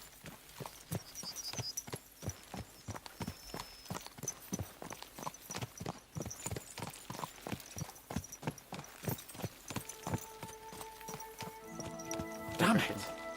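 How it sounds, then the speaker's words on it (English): Horses gallop in the video game Kingdom Come: Deliverance 2, a fast steady run of hoofbeats lasting throughout, with voices talking over it and sustained tones rising near the end. "Let's really spur these horses on, eh?"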